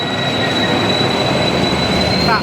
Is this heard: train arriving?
yes